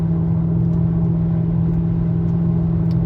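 Steady low drone of a Mercedes E500 V8 on stock exhaust, cruising at 70 and heard from inside the cabin: constant engine and road rumble with a strong low hum, even in level and without talk.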